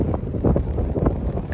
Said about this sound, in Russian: Ветер прям сильный.